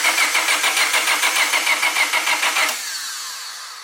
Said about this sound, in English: this is going to be the first attempt at cranking it over and seeing what it does